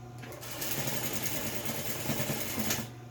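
Close sewing machine running steadily for a few seconds while stitching a multi-use fabric pencil case, a continuous rapid mechanical whir with no talking over it.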